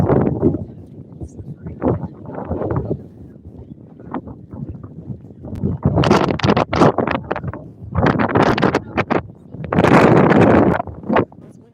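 Gusty outdoor wind at a botanical garden in Washington DC rushes against the microphone in loud, broad bursts that swell and fade over several seconds, with people talking nearby underneath.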